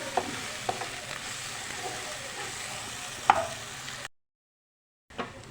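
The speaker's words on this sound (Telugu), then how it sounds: "ఇలా కలుపుకొని బాగా ఇది ఫ్రై అవ్వాలండి ఫ్రై అయ్యి ఆయిల్ మొత్తం పైకి రావాలి" Ginger-garlic style paste for mutton gravy curry frying in oil in a pan, a faint steady sizzle with a few spoon clinks and stirring scrapes, then a brief silence before the frying resumes.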